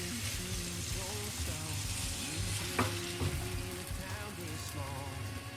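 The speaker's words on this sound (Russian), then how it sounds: "На сковороду немного масла растительного, выливаем яйца" Beaten eggs fry in a little vegetable oil in a pan, a soft steady sizzle and crackle with faint scraping and stirring over it.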